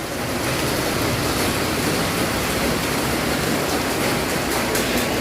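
Heavy rain falling: a dense, constant hiss of downpour fills the whole stretch at even loudness, with no voices.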